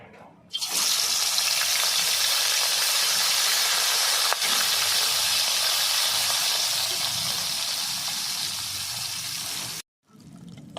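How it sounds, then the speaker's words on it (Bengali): Fish seasoned with salt and turmeric hits hot oil in a pan and breaks into a loud, dense, continuous sizzle that holds for several seconds before cutting off briefly. "এদিকে তেল গরম হয়ে গেছে মাছ প্রথমে ভেজে নেব"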